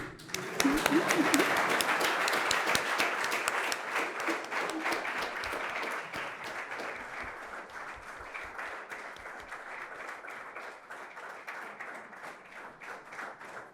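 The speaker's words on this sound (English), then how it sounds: "Let's keep clapping." Sustained audience applause and clapping at an official event welcoming the President of Kenya, loud at first and gradually easing while continuing steadily, with a voice briefly speaking over it near the start.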